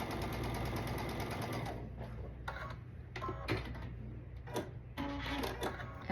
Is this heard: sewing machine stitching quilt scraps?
yes